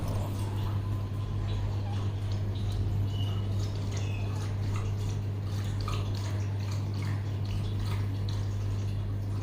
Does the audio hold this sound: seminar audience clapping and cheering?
no